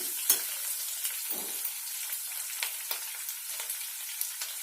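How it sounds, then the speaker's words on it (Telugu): Green chillies drop into frying lentils in a pan, bringing a quiet steady sizzle with a few soft clicks and scrapes of stirring; no talk. "ఇదిగోండి పచ్చిమిర్చి వేస్తున్నాను. పప్పులు కొంచెం వేగినాయి"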